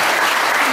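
Audience applause, a dense, steady wash of many hands clapping together, loud and continuous through the short burst.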